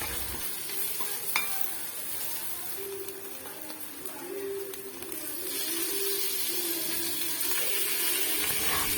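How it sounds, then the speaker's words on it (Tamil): Prawns sautéing with salt and onions in a pan, a continuous hissing sizzle that grows slightly louder, with faint stirring scrapes and no talking. "இப்போ இந்த ரெசிபிக்கு தேவையான சால்ட் சேர்த்துட்டு லைட்டாக சாட்டே பண்ணிவிட்டு ப்ரான்ஸை சேர்த்துருங்க"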